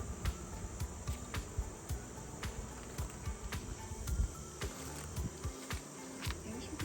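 Insects buzzing around a beehive, a steady high drone with repeated short clicking pulses throughout, fairly close and moderately loud, with no talk.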